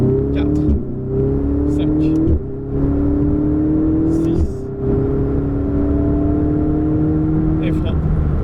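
A Ferrari engine revving hard at full throttle and climbing through the gears, with brief dips at each shift, loud and close, while a voice speaks over it.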